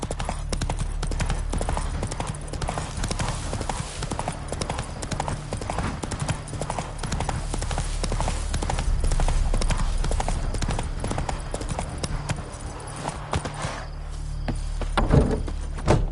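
Roach the horse gallops steadily in The Witcher 3, a dense, loud, continuous drumming of hooves that briefly eases near the end.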